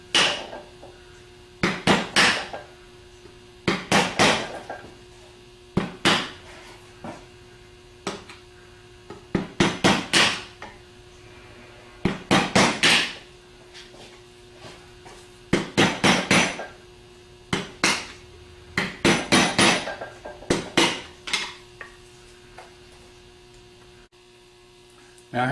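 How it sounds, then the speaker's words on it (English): Repeated clusters of metallic hammer taps on a screwdriver against aluminum ring out in short rhythmic bursts with pauses between, over a constant low electrical hum, while rebuilding a GM AD series alternator. "I'm going to go around and tap it with a hammer to push some of the aluminum back"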